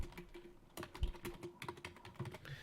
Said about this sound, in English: I can type things in here. I can, hit the enter key and type in different things.